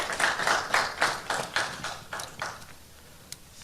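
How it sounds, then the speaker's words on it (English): An audience applauding Dr. Toldson at a talk, a modest round of distinct, evenly spaced claps that thin out and fade after about two and a half seconds. "Let's give Dr. Toldson another round of applause"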